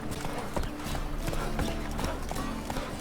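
A horse gallops in the video game The Witcher 3, its hooves drumming in a quick, steady clip-clop rhythm, close and fairly loud.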